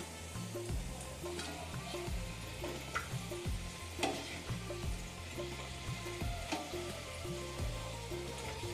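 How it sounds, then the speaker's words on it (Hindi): Samosas deep-frying in hot oil on a medium flame give a continuous close crackle and sizzle. Occasional stirring clinks and rhythmic bubbling pulses run under the sizzle throughout. "ऐसे ही हम सारे समोसे को तल लेंगे।"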